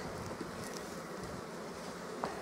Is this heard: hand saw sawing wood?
no